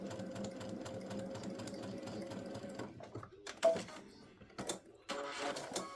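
A sewing machine stitches a hot pad with a steady, rapid mechanical whir for about three seconds, then stops. Handling clicks and rustles follow before a brief second burst of stitching.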